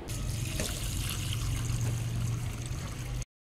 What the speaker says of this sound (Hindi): गोश्त को 2 से 3 बार साफ़ पानी से और खुले पानी में अच्छे से वॉश करना।